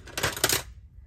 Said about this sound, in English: these kind of deckle sort of scissors. They make a terrible sound.